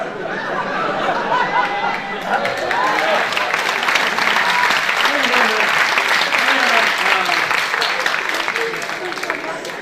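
Sustained audience applause at a 2007 stage show, dense and steady for the full length, with crowd chatter and a few voices mixed into the clapping.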